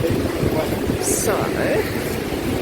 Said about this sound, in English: the ocean is a little rough today again. It's been very windy here lately.